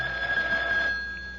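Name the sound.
telephone ringing, radio drama sound effect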